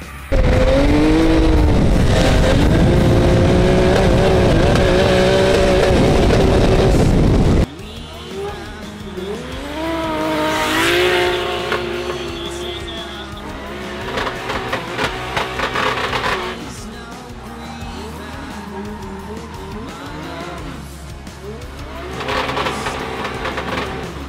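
A 530-horsepower pro-class drift car revs hard with a loud, close engine roar at first, then wails through shifting revs and squealing tyres at a distance, rising and falling in bursts.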